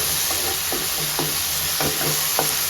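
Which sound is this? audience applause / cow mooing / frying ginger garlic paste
frying ginger garlic paste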